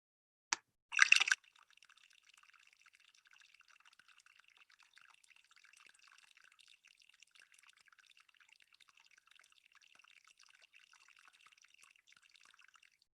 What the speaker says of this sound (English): that was Berge seltzer, which are trapped air bubbles that inside the ice, that as that ice melts, might be hundreds of years old